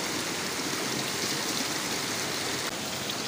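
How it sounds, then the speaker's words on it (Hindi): Water flows out from under a stone on a mountain path in Kashmir as a steady, broad trickling rush that stays even throughout, close and moderately loud with no voices. "ये देखें, पत्थर के नीचे से पानी तशरीफ लेके आ रहा है यहाँ से।"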